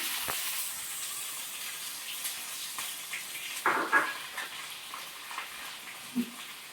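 Onions dropped into hot oil with tempering spices in a heated pan give a steady, faint sizzling hiss with a few brief crackles and no voices.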